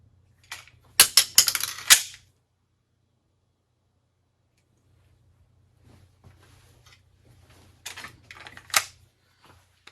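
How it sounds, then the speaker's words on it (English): Pistol emergency reload from slide lock: a flurry of sharp metallic clicks and clacks from the magazine and slide in the first two seconds, then quiet, then a second burst of handling clicks and a sharp snap near the end. "that's an emergency reload"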